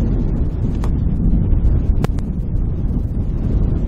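Gusty wind buffeting the microphone on an outdoor golf course, a constant low rumbling roar with a few brief sharper clicks, loud and close throughout.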